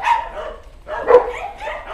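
A dog barks a few times at close range, short sharp yaps spaced across two seconds, with quiet gaps between them.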